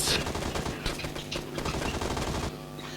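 Rapid bursts of automatic gunfire from the video game PUBG Mobile rattle in quick succession, a dense run of sharp shots over about three seconds that ends abruptly.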